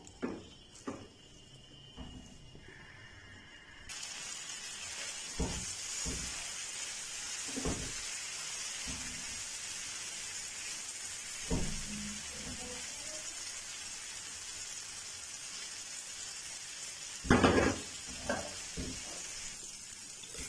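Chicken tikka frying dry over a high flame gives off a steady, close sizzle, broken by intermittent scraping and knocking from stirring, with no talk.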